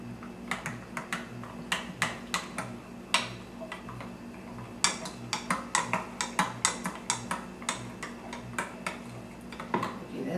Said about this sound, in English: Now we mix this together.